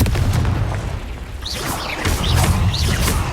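Confringo spell explosions from the video game Hogwarts Legacy: a heavy, booming low rumble with a burst of crackling blasts in the middle, fairly loud and close.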